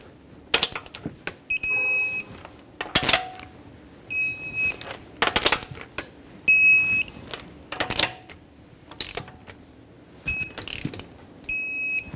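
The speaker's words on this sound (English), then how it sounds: "you're going to want to torque this to 83 foot-pounds" A torque wrench tightens bolts on a Nissan Pathfinder 3.5L V6 serpentine belt tensioner, giving bursts of rapid ratcheting clicks with bright metallic tones, separated by short quiet pauses.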